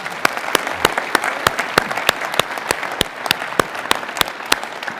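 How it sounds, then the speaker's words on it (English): Audience applause at a United States Air Force Academy winter graduation ceremony, sustained clapping from a crowd with sharp individual claps standing out in a fairly regular rhythm. "Let's give all of you a round of applause right now."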